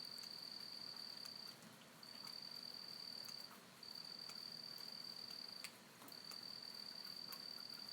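A cricket chirps at night in long, steady trills broken by short pauses, faint and constant over a soft background hiss, with no voices.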